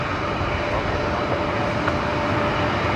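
A Velocity Boeing 737-700 arriving at Brisbane Airport at night gives a continuous, loud engine roar with a steady broadband rush and a faint hum running beneath, unbroken for the whole stretch.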